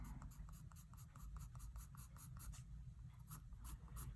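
Soft graphite pencil strokes scratching across paper while shading, a quiet steady run of short repeated rasping marks, close and alone without talk.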